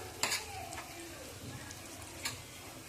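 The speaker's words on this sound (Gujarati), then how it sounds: "ચટણી વાટી હતી એ નાખી દેવાની છે, અને પછી હલાવી દેવાની છે મસ્ત રીતે, એને મેશ કરી દેવાની છે તેલમાં" Ground chutney is stirred and mashed into hot oil in a pan, giving a soft, close sizzle with a few sharp scraping ticks and a couple of louder clacks of the utensil.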